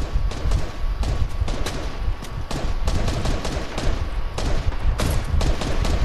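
Rapid gunfire from the video game Fortnite, a dense run of close, loud shots and bursts, alone without talk, in a Season 5 squad match.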